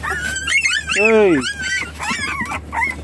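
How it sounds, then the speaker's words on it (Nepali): A young puppy whimpers and cries close by in high, wavering yelps, with one long drawn-out whine in the middle, while someone talks over it. "त्यो कराउँदैछ बच्चे"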